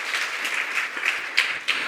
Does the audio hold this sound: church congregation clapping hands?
yes